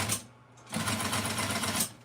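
An upholstery sewing machine stitches in a short burst, stops briefly, then runs again in a fast, close, steady mechanical chatter.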